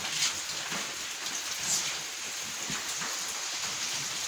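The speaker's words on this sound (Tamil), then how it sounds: "இப்படி மழை பெய்யுது பாரு" Rain falling steadily at night around 11:20, a soft, even hiss of drops on surfaces that holds at a constant level with no talk over it.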